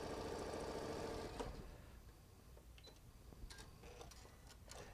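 Janome Continental M7 sewing machine stitching at speed through heavy quilting layers, a dense steady whir for just over a second, then stopping and leaving faint clicks and handling taps.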